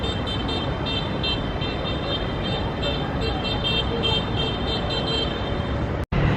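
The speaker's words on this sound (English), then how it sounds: "there are some vehicles called tuk-tuks going around the city" Steady city traffic rumbles through central Lisbon, with tuk-tuks and other vehicles passing continuously and a brief horn-like tone over the loud, unbroken road noise.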